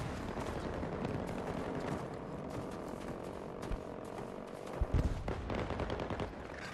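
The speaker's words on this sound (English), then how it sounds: "Who's shooting at me?" Gunfire crackles through a Battlefield 2042 Exodus Conquest match, dense bursts over a constant droning engine-like roar, with a couple of louder nearby shots toward the end and no talking.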